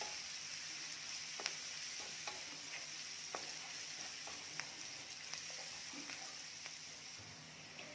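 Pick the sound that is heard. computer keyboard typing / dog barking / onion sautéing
onion sautéing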